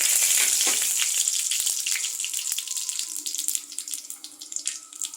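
Nigella seeds and dried chilies dropped into hot oil for a sauteed pumpkin dish, a loud close sizzle that starts strong and slowly settles into a softer crackling fry.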